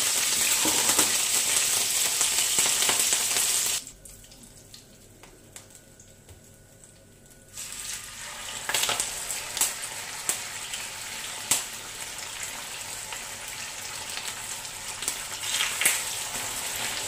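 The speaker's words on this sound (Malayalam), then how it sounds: "ഇപ്പം നമുക്ക് മാരിനേറ്റ് ചെയ്ത് മീൻ വറുത്തെടുക്കാവേ" Marinated fish frying in oil in a pan for a Kerala fish dum biryani gives a steady close sizzle that drops away briefly, then returns with crackles and pops.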